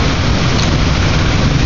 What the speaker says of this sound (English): I'm happy we got rain